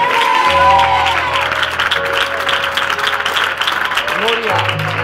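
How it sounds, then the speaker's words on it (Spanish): A church congregation applauds the Lord, continuous loud clapping from many hands with sustained organ or keyboard tones underneath and voices mixed in. "Quiero aplaudirle al Señor, por favor."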